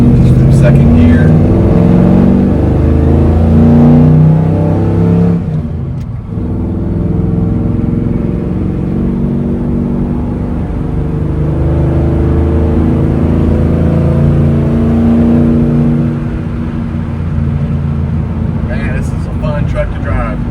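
A car engine pulls hard in second gear from a standstill, a loud, steady drone that rises in pitch over about twenty seconds with a brief dip near the middle; a voice talks over it.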